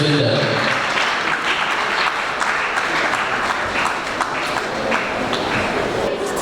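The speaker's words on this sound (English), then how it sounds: "Please, another round of applause for your children." Sustained applause from a large crowd honouring students at a university ceremony, dense steady clapping filling the hall throughout with faint voices mixed in.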